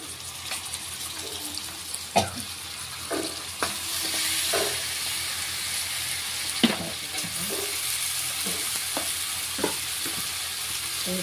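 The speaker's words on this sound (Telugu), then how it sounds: "ఇంత వేగిన తర్వాత మనకు కావాల్సిన చికెన్ 1/2 కేజీ వేసేసేయాలి." Half a kilo of chicken frying in oil with ginger-garlic paste, a steady close sizzle with scattered sharp scrapes and clinks of a spoon stirring the pan, no voices.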